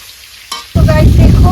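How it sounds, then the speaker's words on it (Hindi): An egg hits hot oil in a pan with a sudden loud sizzle that jumps up after a quieter moment and then crackles steadily, close and alone. "और माँ यहाँ पे देखो अंडा को फ्राई कर रही है।"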